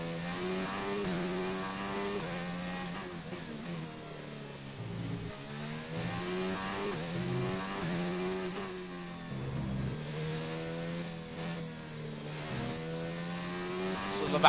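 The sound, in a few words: F1 racing car driving through Hungarian GP circuit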